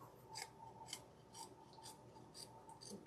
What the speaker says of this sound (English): Let's go ahead and trim. I'll use my curved scissors for this